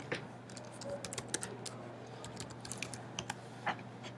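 Fingers type steadily on a computer keyboard, with light irregular clicks over a low steady hum from nearby equipment.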